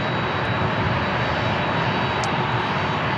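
Boeing 767 jets waiting to take off at San Diego International Airport, a loud continuous engine roar with a steady broadband rumble and a faint high whine, no voices.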